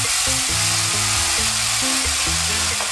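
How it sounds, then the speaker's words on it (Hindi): Milk poured into vegetable kanda poha in a hot pan, raising a loud, dense sizzle that holds steady throughout, with faint scraping and stirring and a low kitchen hum. "अब हम इसमें जो हमने 1 टेबल स्पून दूध लिया था उसको ऐड करेंगे।"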